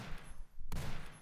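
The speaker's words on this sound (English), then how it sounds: "Let's go back to the shotgun here." Shotgun blasts from a tile-based top-down zombie game, a loud sharp synthetic burst cutting in after a brief lull, with a continuous dense gunfire-like texture before and after.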